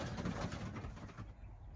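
Pigeons in a loft cooing softly and faintly, a few low throaty calls over light background rustle, fading out near the end without talk.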